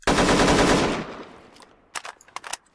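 Rapid automatic gunfire from a weapon in a modded first-person shooter game, a loud sustained burst for about a second that decays, followed by a few sharp mechanical clicks and clacks of a reload.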